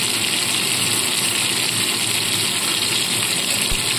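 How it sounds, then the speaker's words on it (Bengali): Potatoes, salted and dusted with turmeric, fry in hot oil with a loud, continuous hiss that holds an even sizzle throughout, close and unbroken, with no voices. "এবার এই তেলের মধ্যেই আলুগুলোকে ছেড়ে দেবো।"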